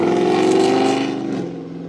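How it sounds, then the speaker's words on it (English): Loud Dodge Charger car roaring past, a brief engine swell that peaks early and fades as it moves away. "that loud car you just heard was a Charger."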